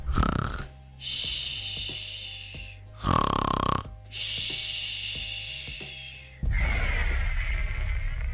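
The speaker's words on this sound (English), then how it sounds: "Maybe she's snoring really weird or something." Snoring in the Roblox Brookhaven game comes as loud, harsh hissing breaths in a slow repeating pattern, each rasping intake and exhale lasting about a second, with no talking.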